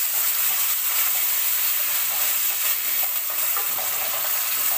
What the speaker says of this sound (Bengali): আলুটা মশলার সাথে একটু কষে নিচ্ছি আর সামান্য পরিমাণে একটু জল দিচ্ছি